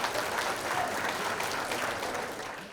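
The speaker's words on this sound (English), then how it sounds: "Give yourselves a round of applause." An audience at a motivational talk breaks into steady applause, a dense wash of many hands clapping together that holds evenly and fades slightly toward the end.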